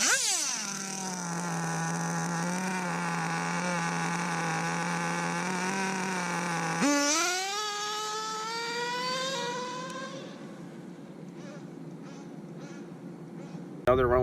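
A nitro RC drag car makes a run, its small engine whining steadily and then rising in pitch through a gear shift before fading into the distance.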